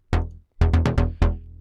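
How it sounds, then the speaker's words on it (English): A clean synth bass in a melodic techno style plays a short pattern of plucky notes, one then four in quick succession, each bright attack fading fast, clear and without distortion. "Really simple bass."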